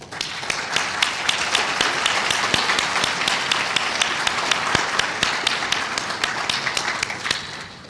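An audience at a history awards ceremony applauds award recipients, with loud, sustained, dense clapping filling the room throughout, with sharp individual claps standing out.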